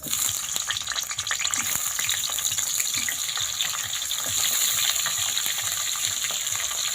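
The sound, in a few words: pointed gourd frying in hot mustard oil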